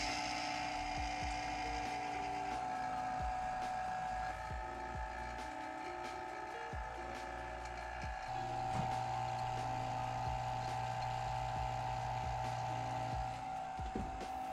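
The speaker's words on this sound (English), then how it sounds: "I open the low side valve and then turn on the pump to pull a vacuum for at least 30 minutes." A vacuum pump hums steadily while pulling a vacuum on a Senville 9000 BTU mini split heat pump through its low side valve, a constant mechanical drone with faint clicks and ticks, quiet and without talk.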